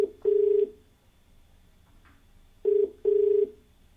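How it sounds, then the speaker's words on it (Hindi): Telephone call connecting on a Hindi TV phone-in show on Green TV: two pairs of clear, close ringback tones separated by quiet gaps, with no voices. "आइए बात करते हैं अपने अगले कॉलर से, रविंद्र कुमार जी से, जो कि उत्तर प्रदेश में रहते हैं"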